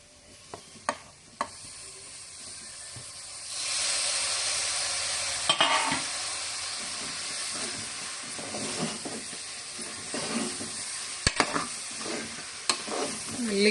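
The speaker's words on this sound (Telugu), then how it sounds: "దీంట్లో అయితే టమాటాలు అయితే వేసేసుకుందాం." Tomatoes fry and are stirred in an oil-filled pan while a dal and tomato curry is being made. Steady sizzling runs throughout, loud and close, with sharp clicks of a utensil scraping the pan.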